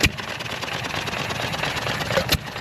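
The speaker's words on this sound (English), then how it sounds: "John Deere fired right up" A John Deere tractor engine at an antique machinery show runs steadily just after starting, a continuous close mid-pitched idle with a brief louder thump near the end.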